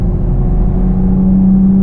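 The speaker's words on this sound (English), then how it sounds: "60 miles an hour, third gear, foot hard down. For a V6, A, it sounds really good" Chevrolet Camaro RS V6 1LE pulling hard in third gear from about 60 mph, a loud, close, steady engine drone with a rising whirring tone as it accelerates.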